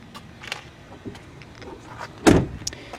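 A fuel door on a 1995 Chevrolet Monte Carlo LS pops open with one sharp, close click-thunk, set among faint handling noises and light scuffs.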